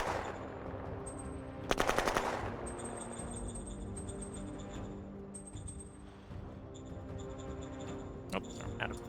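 Gunfire in a strategy video game: a short, loud burst of rapid automatic shots about two seconds in, with a few sharper cracks near the end over a continuous low game background.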